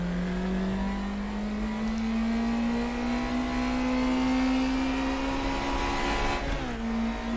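A race car engine in the RaceRoom racing game revs near 8,000 RPM, a loud continuous screaming whine climbing slowly in pitch, with a brief shift near the end and no talk.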